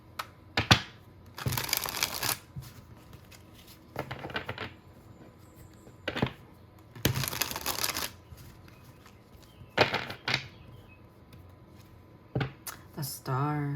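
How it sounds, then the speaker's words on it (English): Tarot cards dip shuffled by hand in bursts of crisp riffling, several separate bursts with quiet pauses between them and light handling clicks, close up. "Let's do a dip shuffle here and get one more card for what they want to say."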